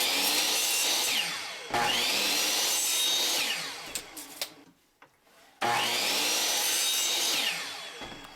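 Wooden dowels for a butcher block repair are cut with a saw in two long, loud rasping strokes, separated by a brief pause filled with small knocks and handling clatter.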